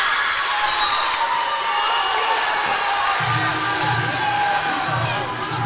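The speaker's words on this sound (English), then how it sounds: "We've got ourselves a nice crowd today here at the Henrico Sports and Event Center" Crowd noise at a women's college basketball tournament game in an arena, a continuous murmur of cheering and children shouting with occasional whoops, steady and moderately loud throughout.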